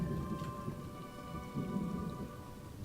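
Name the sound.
thunder and rain in the video game ESO: Summerset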